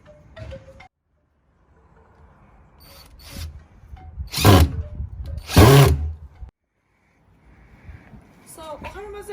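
A power drill drives 2-inch screws into garden woodwork in several short, loud whirring bursts separated by pauses, with a person talking between them.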